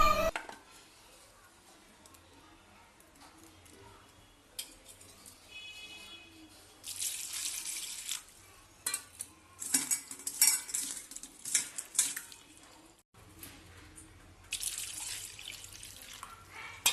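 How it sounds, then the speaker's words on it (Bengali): Peeled grapes washed with water in a bowl, with splashing, swishing and clinking of the bowl in intermittent bursts, close and fairly loud. "আগে আঙুর ফলগুলোকে ছাড়িয়ে নিই, তারপরে ভালো করে জল দিয়ে ধুয়ে নেব।"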